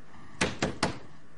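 Three quick, heavy thuds hit a locked door in a fast, evenly spaced run, close and loud over a quiet room.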